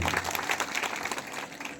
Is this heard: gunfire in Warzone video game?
no